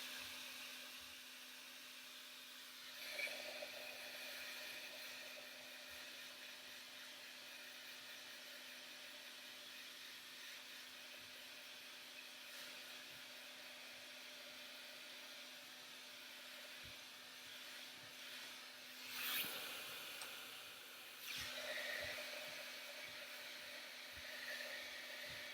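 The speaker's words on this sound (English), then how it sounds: "Then I'm going to blow dry this again." Hair dryer blowing steadily on glitter-covered shoes, a continuous broadband whoosh held for the whole stretch, with a few brief louder surges partway through.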